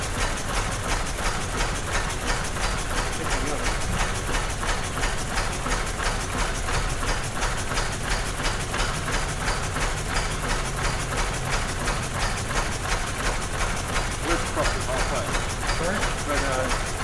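A 1903 Cadillac engine idling in a workshop, a fast, even chuffing beat that runs steadily and loudly throughout, up close, with people talking over it.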